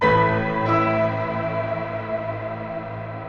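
Sustained piano chords from a Kontakt grand piano library washed in a bright shimmer reverb with large size that swells and lingers, with a dreamy, continuous wash of overtones.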